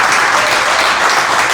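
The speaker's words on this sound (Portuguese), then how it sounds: "Aplauda o nome do Senhor Jesus." A church congregation breaks into loud, dense applause during a sermon, a short burst of close clapping with no talk over it.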